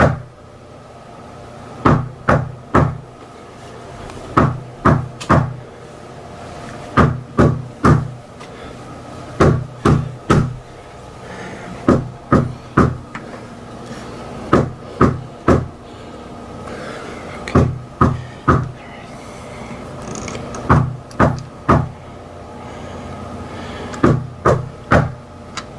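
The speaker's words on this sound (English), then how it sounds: "There's been someone knocking at my front door for the last 10 minutes or so, and they haven't stopped knocking." Someone knocks at a front door in repeated clusters of sharp, hollow raps, several blows per burst, recurring at regular intervals for over twenty seconds, close and loud against a quiet background.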